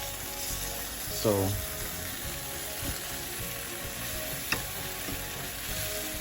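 Home-made steaks frying on a low fire, a soft continuous sizzle with a brief scrape near the start and a single clink later, fairly quiet throughout.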